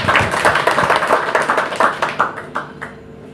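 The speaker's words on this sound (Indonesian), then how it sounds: "Ya pokoknya sekali lagi tepuk tangan untuk imam." An audience claps for Imam, a dozen or so distinct, fairly close handclaps in a loose, uneven rhythm that thins out and fades toward the end, with no talking over them.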